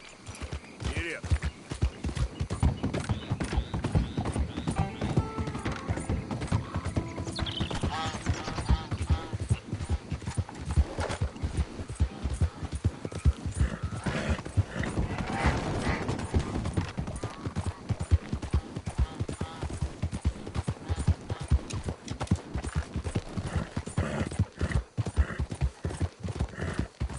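Horse galloping in Red Dead Redemption 2, a fast continuous drumming of hooves close up, with occasional whinnies, creaking tack and faint speech mixed in.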